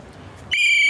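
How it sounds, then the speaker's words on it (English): One sharp, shrill whistle blast to start a race begins abruptly and holds steady after a moment of quiet background noise. "I'm going to start this race with a whistle."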